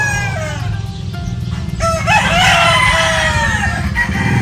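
A gamefowl rooster of the straight sweater breed crows close by, with a long and clear cock-a-doodle-doo rising over a steady low hum.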